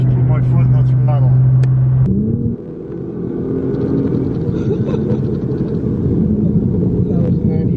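A Nissan GT-R at full throttle, its engine droning loudly inside the cabin, with a shift-like drop in pitch partway through and then a continued hard rumbling pull, with voices talking over it.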